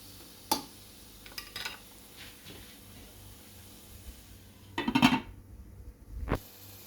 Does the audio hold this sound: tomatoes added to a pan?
yes